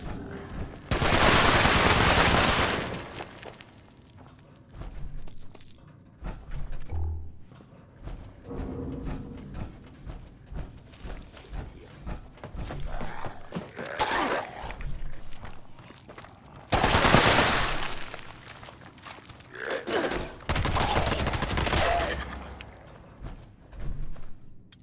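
Gunfire from the video game Fallout 76 arrives in loud, rapid automatic bursts, one early and one late, separated by quieter stretches of footsteps, thuds and movement.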